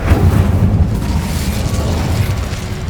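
A fire spell, Incendio, is cast in a Harry Potter video game, bursting with a loud close whoosh and boom at the start that settles into a rumbling crackle, with no voices.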